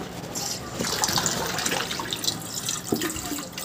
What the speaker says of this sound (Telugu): దాంట్లో కొన్ని వాటర్ పోసుకొని క్లీన్ చేసుకోవాలి.